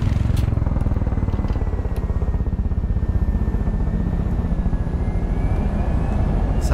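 A helicopter in the video game Far Cry 5 gives a loud, continuous rhythmic rotor chop with a steady engine whine throughout, close and unbroken, with no talk over it.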